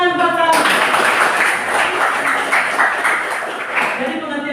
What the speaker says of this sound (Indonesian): Iya, tepuk tangan buat kalian.